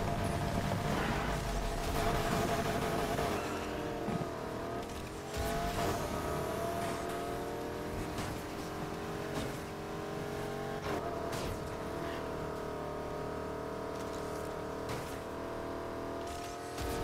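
An Audi race car in Need for Speed Heat roars steadily through a race, engine revving and shifting with tire squeal and passing traffic, loud and continuous with no talk.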